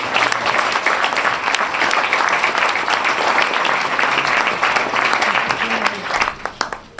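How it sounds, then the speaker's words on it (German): A panel discussion audience applauds in a room, steady dense clapping that holds for several seconds before thinning into a few last claps. "darf auch gerne mal geklatscht werden."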